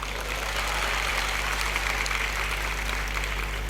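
A theatre audience applauds in a dense, steady wash of clapping that holds at an even level throughout.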